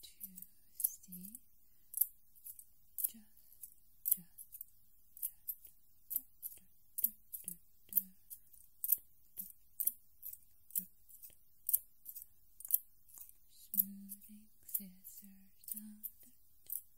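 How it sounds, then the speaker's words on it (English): Scissors snip and smooth in a quiet ASMR setting, giving soft, close, repeated crisp cuts in an irregular rhythm with faint whispering in between. "Smooth with scissors there."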